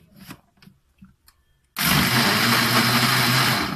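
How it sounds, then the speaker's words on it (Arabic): A kitchen blender starts up and runs loud and steady, mixing a yogurt drink, after a few quiet clinks and handling sounds. "وهنضربه في الخلاط وهيبقى ايه في دقيقه جاهز"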